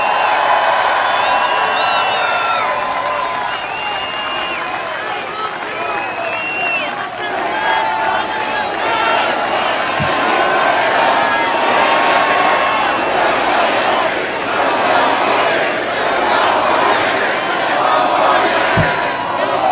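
A large crowd at a political rally in Manchester, New Hampshire roars with sustained cheering, whooping and shouting, loud and continuous throughout with a few sharp claps standing out.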